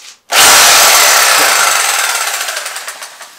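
SDS rotary hammer drill with a 16 mm bit boring a hole through a wall during a bathroom renovation, starting abruptly and then hammering loudly and steadily, the rapid pounding slowly easing toward the end.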